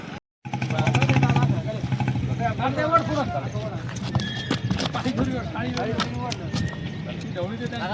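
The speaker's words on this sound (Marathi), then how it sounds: "बघा शेतकऱ्याचा घोडा आहे" At a rural horse market, a farmer's horse clops its hooves and lets out a loud whinny, with engine noise and people talking close by throughout.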